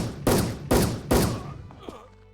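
Gunfire in the online shooter WolfTeam: three loud, evenly spaced shots about half a second apart, each with a short ringing tail, followed by fainter game clicks and hum.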